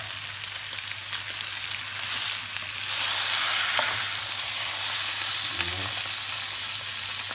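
A stuffed turkey roast, filled with mushrooms, sizzling in a hot pan: a steady, close, loud frying hiss with occasional stirring or turning noises and no talk.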